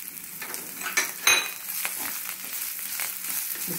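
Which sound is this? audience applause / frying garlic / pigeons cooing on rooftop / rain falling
frying garlic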